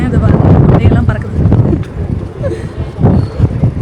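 Strong wind buffets a microphone on the Jebel Hafeet mountain top near Al Ain, a loud continuous rumbling roar that gusts and dips throughout.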